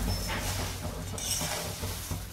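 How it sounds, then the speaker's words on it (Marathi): Puffed rice (bhadang) being stirred and tossed in a pan while roasting with salt and powdered sugar, a continuous close scraping and rustling with light metallic clinks throughout. "भडंग परतून घ्यायचा चांगला।"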